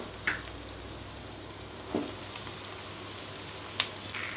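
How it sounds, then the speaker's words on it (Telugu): Corn frying in hot oil over a high flame with onions, garlic, green chillies, curry leaves and dried red chillies, giving a soft, steady sizzle with a few faint clicks of stirring. "ఫ్లేమ్ హైలో ఉంచుకొని వేయించుకోవాలండి"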